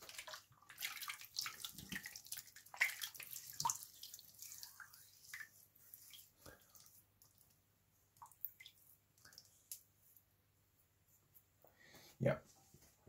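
After shaving with a Wilkinson Sword blade, water splashes and drips in quiet, scattered bursts close by, like rinsing at a basin, with a louder splash near the end and soft talking in between.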